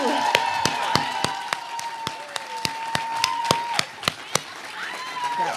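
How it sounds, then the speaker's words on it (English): Audience claps for five poets at the Standing Fierce For Five event: a series of sharp, evenly spaced claps ring out in a steady rhythm, with thin whistle-like tones and a murmur of voices running beneath. "Can we clap for those 5 fierce poets?"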